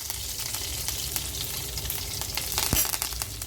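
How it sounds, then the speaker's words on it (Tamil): Spices, garlic and curry leaves fry in hot oil, a loud, dense, continuous sizzle with crackling pops and a brief stir clink near the end, close by with no talk. "ஸ்பைசஸ் பொரிஞ்ச உடனே அதோடய பூண்டு ஆட் பண்ணிக்கோங்க. கருவேப்பிலை ஆட் பண்ணிக்கோங்க."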